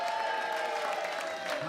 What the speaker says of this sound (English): a big round of applause for Mr. and Mrs.